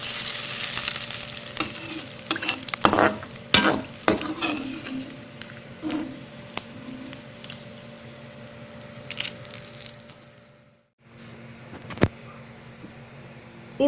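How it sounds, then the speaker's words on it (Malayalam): Cauliflower (gobi) pieces frying in hot oil in a pan, with steady close sizzling broken by a series of scraping stir strokes and clinks of a utensil, briefly quieting near the end before one sharp knock. "അത് നമുക്ക് നന്നായിട്ടൊന്ന് ഫ്രൈ ചെയ്തെടുക്കാം."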